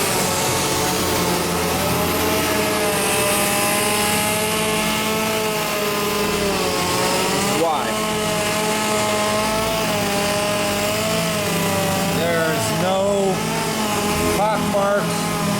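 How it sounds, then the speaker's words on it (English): A worn-out 320-grit DA sander wet sanding stripped 1967 Chevelle body panels, a steady close whirring drone that runs throughout, with brief pitch dips as the pad shifts. "Now, we're wet sanding the hell out of it."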